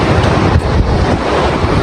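Ocean surf and strong wind at the Giant's Causeway on the Antrim coast of Northern Ireland, a loud continuous roar with heavy wind buffeting the microphone.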